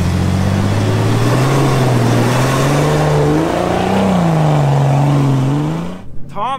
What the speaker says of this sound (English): We're driving out of here in two-wheel drive.